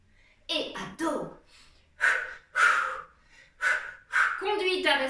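Heavy, rhythmic breathing during a body-sculpt workout class comes as about six loud, close puffs and gasps, each forceful exhale separated by a short pause.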